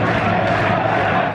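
A football crowd at the MK Dons ground gives a broad, sustained roar of voices and chanting, loud and continuous throughout with no pauses.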